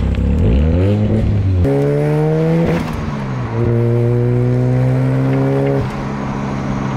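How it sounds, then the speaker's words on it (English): A Mazda RX-7 rotary engine revs hard up to the rev limiter, a loud close buzzing drone that climbs in steps, holds and bounces at the limit, then drops and climbs again. "He's an idiot and keeps hitting the rev limiter."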